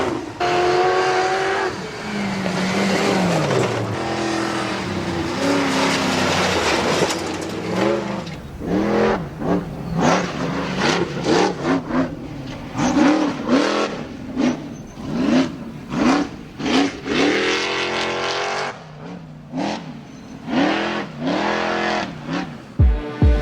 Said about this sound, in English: this is always fun to watch everybody push it as fast as they can on a short course